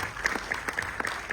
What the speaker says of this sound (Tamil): நல்ல கை தட்டுங்க